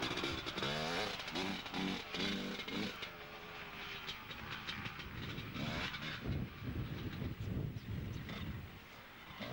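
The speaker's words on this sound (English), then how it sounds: "Number 32 gets away, Rab Moir, on his 250 KTM. He's followed by Davey Dunn on his 250 Kawasaki." Two 250cc enduro motorcycles, a KTM and a Kawasaki, set off one after another at a 1995 Scottish enduro, their engines revving in pulsing bursts, then fading into a steady rumble with wind buffeting.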